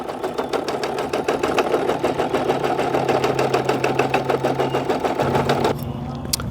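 A portable embroidery machine runs outdoors, stitching black thread in a fast, even mechanical clatter that stays close and loud for several seconds before stopping.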